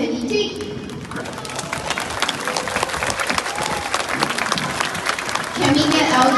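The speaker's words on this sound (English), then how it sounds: "applause for our class of 2023." Crowd applause for a graduating class of 2023 at a school ceremony with young children, a dense sustained clatter of clapping that swells louder near the end, with scattered voices and child chatter mixed in.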